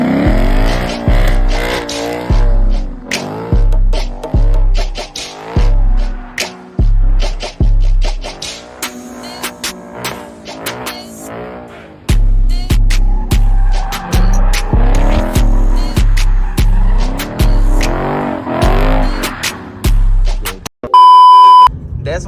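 A Ford Mustang S650 on Nitto NT05 tires is driven hard. The engine roars loudly in repeated rising revs, with tire squeals and skids, and a short electronic beep near the end.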